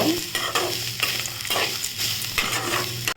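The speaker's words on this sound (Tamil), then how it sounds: "கொஞ்சமாக கருவேப்பிலை சேர்த்துக்கோங்க நம்ம தேங்காய் வச்சுருந்தாலும் தேங்காவை சேர்த்துக்கலாம் அதையே சேர்த்து நல்லா பொன்னிறமாக வதக்கிக்கோங்க" Curry leaves and grated coconut sautéing in a hot pan, a steady close sizzle broken by several scraping stirs of a spatula at regular intervals.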